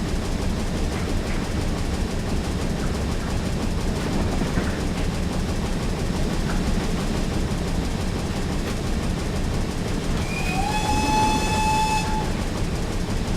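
A Manor Class steam locomotive running on the Bristol to Exeter line in a simulator rumbles steadily, then sounds its two-tone whistle in a short rising note followed by a longer sustained blast near the end.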